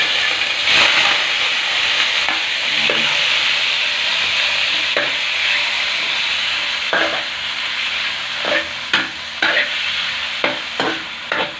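Meat sizzling and frying in a little oil in a wok, a continuous loud hiss broken by scraping stirs and clacks of a utensil, with no voices.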